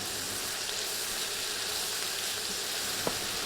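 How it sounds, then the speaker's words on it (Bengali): Chopped onion and garlic paste fry in a pan for mixed vegetables, giving a soft continuous hiss and crackle with faint stirring and one brief clink near the end. "১ মিনিটের মতো ভেজে দিচ্ছি ১ চা চামচ রসুন বাটা।"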